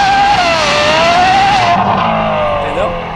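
Ferrari 812 V12 with a loud aftermarket exhaust revs hard near the listener, its pitch climbing and then dropping at a gear change before trailing off, with voices talking over it.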